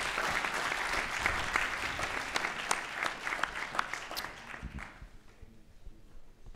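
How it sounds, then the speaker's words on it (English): An audience at a startup launch event gives warm applause, dense clapping that holds steady and then fades out toward the end. "We have to give a warm applause"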